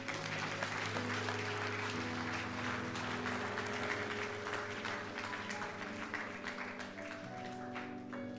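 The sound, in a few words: congregation applauding for the Lord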